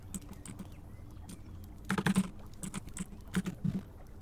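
Computer keyboard keys tapped in a short burst of typing, with two quick clusters of clicks over quiet room tone and no voice.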